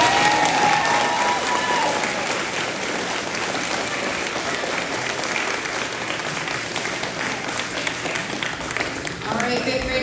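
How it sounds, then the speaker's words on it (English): A school audience applauds fifth graders at an elementary awards ceremony with loud, dense, sustained clapping that fills the room throughout, with crowd noise mixed in. "let's give them a big round of applause"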